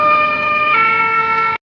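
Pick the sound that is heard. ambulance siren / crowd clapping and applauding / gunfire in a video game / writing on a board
ambulance siren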